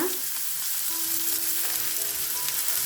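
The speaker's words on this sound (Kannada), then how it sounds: "ಇವಾಗ ನಾವು ಇದ್ರೊಳಗಡೆ ಸಣ್ಣದಾಗಿ ಕಟ್ ಮಾಡ್ಕೊಂಡಿರೋದು ಈರುಳ್ಳಿನ ಹಾಕೊಳ್ಳೋಣ." Finely chopped onions go into hot oil already holding green chillies, giving a steady, close hiss and crackle of frying that continues evenly with no talking.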